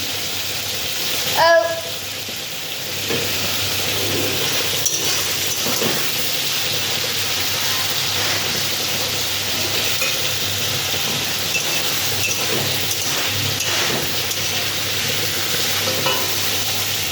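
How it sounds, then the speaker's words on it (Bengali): Prawns fry in hot oil with a steady, loud, close sizzle. The sizzling runs throughout, with a sharp clatter of stirring near the start and occasional faint scrapes. "এবার চিংড়ি মাছটা ভাজা হচ্ছে"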